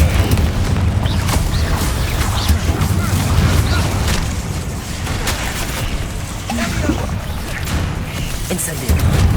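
Repeated Incendio fire spells in Hogwarts Legacy combat: a continuous loud roar of fiery bursts and booming impacts, dense and close throughout, with faint speech mixed into the din.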